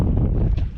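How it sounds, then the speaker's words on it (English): A steady 10 knot breeze on a sailboat on a tropical sailing day, heard as a loud, continuous low wind rumble buffeting the microphone throughout the short moment. "The wind is just consistent. It's like a 10 knot breeze."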